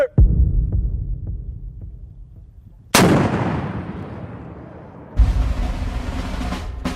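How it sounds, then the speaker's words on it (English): An AT-4 anti-tank weapon fired by instructors in a military demonstration: a powerful blast and a second one after a pause, each a sharp boom rolling out into a long, fading rumble outdoors. "instructors demonstrate what the AT-4 can really do"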